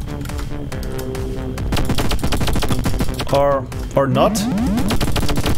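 Rapid automatic gunfire rattles in a top-down shooter video game, a dense, loud stream of shots over game music, with someone talking briefly.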